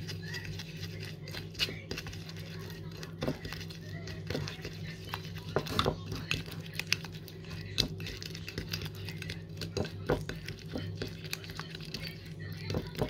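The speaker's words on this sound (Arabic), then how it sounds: "غادي ندير دانون وغادي نخلط هذا الماسك بحال هكا مزيان" A spoon stirs a face mask mixed with yogurt in a bowl, giving soft scattered clinks and scrapes against a steady low background hum.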